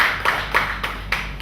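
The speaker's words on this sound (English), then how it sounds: "A round of applause." Audience applause at a "Raise A Child" handover ceremony, a short burst of clapping with several distinct sharp hand claps standing out over a steady background of room sound.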